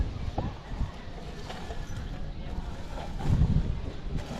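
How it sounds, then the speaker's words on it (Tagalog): Strong gusty wind roars across the microphone, with rumbling buffets rising and falling, and faint voices briefly audible underneath. "Malakas na ang hangin."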